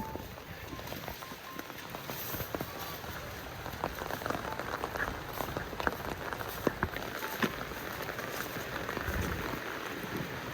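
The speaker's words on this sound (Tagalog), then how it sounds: "Daxi, sulod na mo ba kay ulan?" Rain pelts a hard surface nearby, a dense crackle of drops with sharper individual splats, steady throughout and no one speaking.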